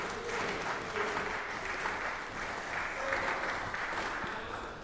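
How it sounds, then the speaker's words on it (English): Applause in the Georgia Senate chamber for its longest-serving floor leader, a steady wash of many hands clapping throughout, moderately distant and sustained without a break. "Give him a round of applause right there."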